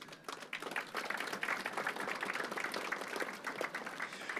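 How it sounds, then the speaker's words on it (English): Applause from a convention audience for the event's sponsors at the SARM annual convention, a steady, moderately distant round of clapping from a large hall that holds evenly throughout. "A big round of applause for all of our sponsors."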